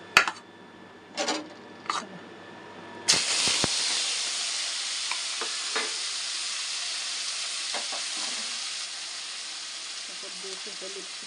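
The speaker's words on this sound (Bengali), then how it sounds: "এবার পনিরটাকে আগে ভেজে নিই" Cut paneer dropped into hot oil in a home kitchen, starting with a few knocks and then a loud, steady sizzle that carries on with small pops and stirring.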